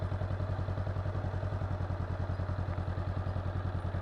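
A motorcycle engine runs at low revs with a steady rhythmic thumping pulse and mechanical clatter, close by, while the rider works the clutch slowly in a clutch control exercise.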